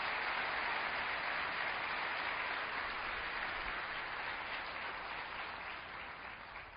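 A church congregation at an Assembleia de Deus service breaks into sustained applause, a dense, even wash of many hands clapping that holds steady and tapers slightly at the end, with no talk over it.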